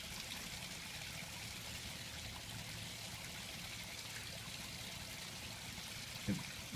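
A garden water feature flows quietly, a faint steady trickle and splash of running water with a brief knock near the end.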